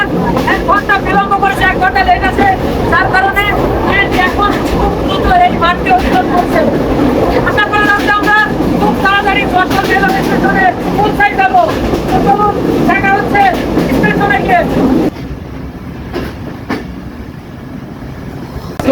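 Loud, continuous rumble and rattle from inside a moving local train from Meherpur to Jashore, Bangladesh, with rhythmic clatter and a voice talking over it before the noise drops slightly near the end.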